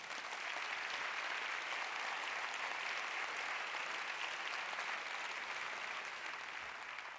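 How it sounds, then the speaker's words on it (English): Audience applause fills a plenary session hall, a steady, dense wash of many hands clapping at even loudness throughout, with no voices standing out. "So I would like to ask a round of applause for Maz"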